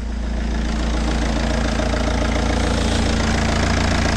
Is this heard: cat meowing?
no